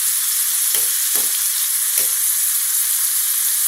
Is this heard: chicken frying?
yes